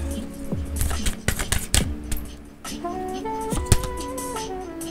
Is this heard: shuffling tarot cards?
yes